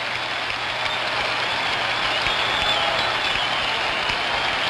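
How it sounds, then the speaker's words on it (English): Baseball crowd at Fenway Park during Game 6 of the 1975 World Series between the Reds and Red Sox, a continuous, dense roar of cheering and clapping that holds steady with no voice over it. "Crowd comes alive."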